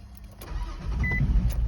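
A 2004 Nissan Xterra with fuel pump trouble cranks and fires up, the engine catching into a low rumbling idle, close by.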